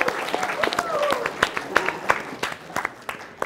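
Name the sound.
audience applause for a panelist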